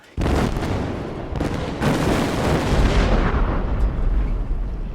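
Heavy booming cannon blasts from sailing ships roll out in a loud, sustained barrage, with deep rumbling reverberation carrying from one shot into the next.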